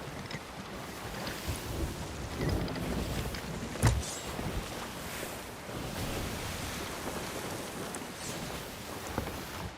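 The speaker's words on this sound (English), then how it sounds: "Oh, they're sailing towards me." In the pirate game Sea of Thieves, a sailing ship comes closer over the open sea, heard as rushing waves and creaking hull noise with a sharp thump midway, steady and moderately loud, with no talk.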